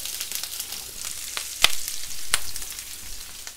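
Onions sizzling in about three tablespoons of olive oil in a large skillet, a steady close hiss with a couple of sharp pops and light stirring noises.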